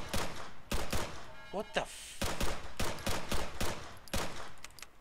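Rapid bursts of gunfire ring out from a weapon firing blanks in the video game Arma III, sharp cracks in quick volleys with short gaps, mixed with a startled voice.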